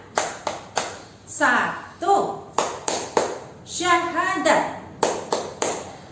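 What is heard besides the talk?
children's rhythmic clapping game, Tepuk rukun Islam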